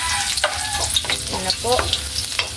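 Garlic frying and being stirred in hot cooking oil for ampalaya with dilis, a steady close sizzle with scraping stir strokes, while a voice speaks briefly.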